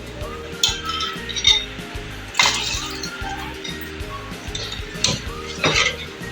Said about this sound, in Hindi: और चमचा फ़ौरन चलाना है इसमें ताकि लम्स ना पड़े।